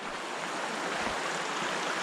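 Steady broadband rush of a forest creek flowing close by, an even, continuous wash of water with no voices.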